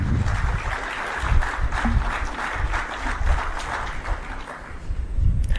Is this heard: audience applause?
yes